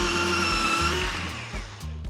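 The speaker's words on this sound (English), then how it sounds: "the material stayed still while I was drilling" A drill runs a pocket hole into a board on a Kreg pocket hole joiner, whirring loudly and steadily at close range, then slowing with a few brief pulses as it finishes.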